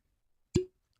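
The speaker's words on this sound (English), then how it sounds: "That's a good cork pop." A single sharp, hollow cork pop from a newly opened bottle of E.H. Taylor Small Batch bourbon whiskey, close and clean in a quiet room with no talk.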